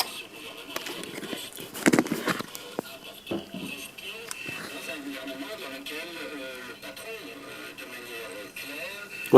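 A homemade speaker built from a plate plays back sound with a thin, tinny, radio-like quality. Faint knocks and handling noises break in as the plate is held.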